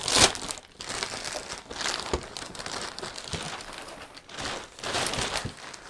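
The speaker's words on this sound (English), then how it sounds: "So let's get the packaging open." Packaging around a pair of brown leather high-leg western boots is torn open, with bursts of crinkling and rustling plastic or paper in uneven handfuls, close and fairly loud.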